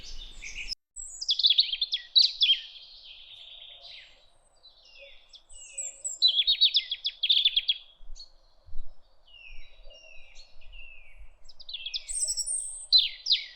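Eurasian jays call in a forest near a rain-filled watering pool, giving harsh, raspy bursts in several separate bouts with quiet gaps between them, fairly close and clear against a still background.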